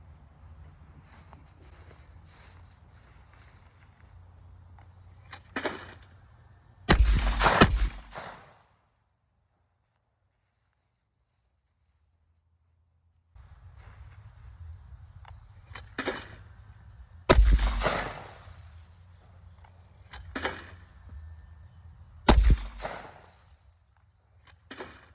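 A Retay Ace shotgun fires Federal 1.5-ounce, 2 3/4-inch Magnum number 4 shot loads outdoors, with several sharp, booming reports spaced seconds apart, a silent stretch between groups of shots, and insects chirping in the background.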